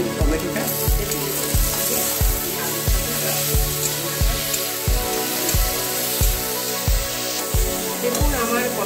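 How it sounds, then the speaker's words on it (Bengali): Potatoes and tomato frying in a pan, a loud steady sizzle broken by regular stirring strokes roughly once a second, close up with no talk. "এটা লাল লাল করে ভাজছি।"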